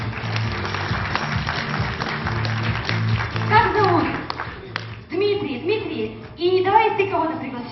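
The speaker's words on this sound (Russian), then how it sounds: "Тебе уже все аплодируют, выходи." An audience claps in scattered, uneven bursts while voices talk over and between the applause, the speech growing louder toward the end.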